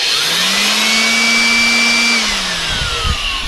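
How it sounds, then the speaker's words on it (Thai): An electric blower whines at a steady pitch for about two seconds, then winds down as a few clunks follow. "อันนี้คือโบเวอร์นะฮะ"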